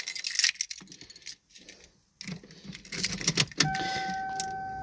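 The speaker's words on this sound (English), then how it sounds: "Here, where's my keys?" Keys jangle and rattle in short bursts close by, with pauses between them, inside a car setting during repair of SC and GS instrument clusters; a thin electronic tone comes in near the end.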